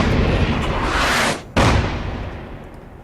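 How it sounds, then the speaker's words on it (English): Loud, close explosions from Fallout 4 gameplay: a sustained roaring blast that cuts off briefly, then a second booming burst that slowly fades away. "It's a pretty liberal set of explosions here, but it definitely fires more times than 5."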